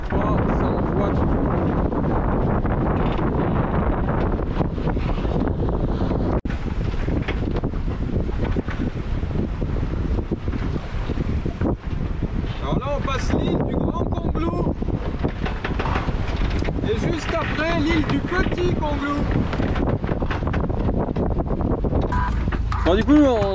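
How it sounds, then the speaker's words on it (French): Strong wind buffets the microphone in a constant deep roar, with water and boat noise underneath and muffled voices now and then. "on pouvait pas bien parler à la caméra parce qu'il y avait beaucoup de vent"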